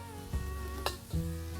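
Onion stir-fries in a wok with shallots, a steady, close sizzle that runs without a break. Two brief scrapes of a spatula against the pan are heard, and there is no talk.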